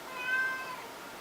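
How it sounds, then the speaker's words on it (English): A pet cat lets out a single short meow indoors, fairly faint and close, with no talking around it. "Oh my gosh, my cat."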